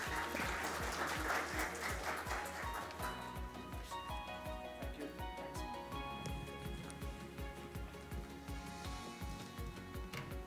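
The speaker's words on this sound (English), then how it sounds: "Venugopal with an applause, please" Audience applause in a packed morning hall in Pune as a speaker is welcomed on stage, a dense wash of clapping that is strongest early and then thins out, with music or rhythmic sounds underneath.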